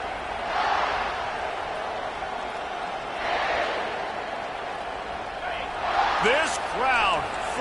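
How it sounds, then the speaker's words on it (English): A stadium crowd at a football game roars in rising and falling swells, a broad, distant wash of cheering, with a few sharp whistle-like tones near the end. "This crowd, full throat, spreading the eardrums"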